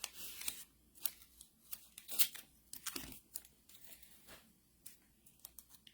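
A glue dot for papercraft is handled and peeled from its backing: a close, quiet run of crisp crinkles, small tearing rasps and tapping clicks in uneven bursts, with no speech.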